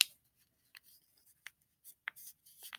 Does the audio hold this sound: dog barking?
no